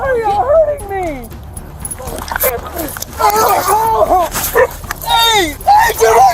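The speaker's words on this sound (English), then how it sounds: "Hey, do not shoot my dog!" A dog yelps and whimpers repeatedly in a tense confrontation with police, its cries rising and falling close by amid loud, overlapping shouting voices.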